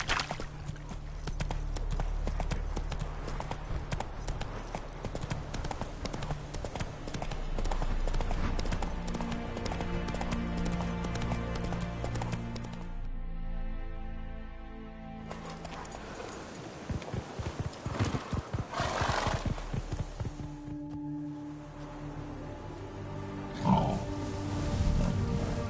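Galloping hooves from a horse in the Witcher 3 video game drum rapidly under a musical score, with a short break midway and some faint voice.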